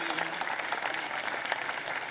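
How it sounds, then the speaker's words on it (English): Audience applause for two congressmen at a vice-presidential event at a Caterpillar equipment dealership in Fenton, a steady dense wash of clapping filling the whole stretch with no break. "Give them both a big round of applause"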